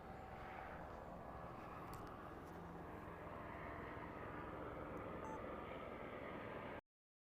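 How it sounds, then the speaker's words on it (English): A helicopter drones steadily over a car-free alpine village in Switzerland near Gimmelwald and Mürren, a faint, continuous low rumble that holds without a break until it cuts off. "We can hear the chopper, yeah."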